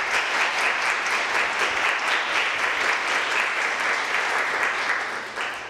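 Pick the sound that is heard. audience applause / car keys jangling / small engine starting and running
audience applause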